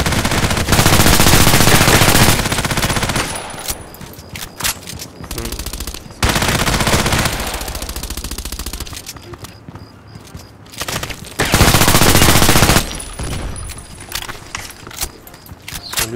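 Heavy automatic gunfire in the online shooter Contract Wars, long loud bursts that break off and return, with single shots, shotgun blasts and footsteps in the gaps between volleys.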